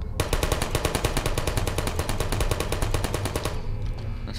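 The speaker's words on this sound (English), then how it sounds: "then I get shot by turrets" Rapid automatic turret gunfire from the Portal video game, a steady fast stream of loud sharp shots for about three and a half seconds before cutting off into near silence.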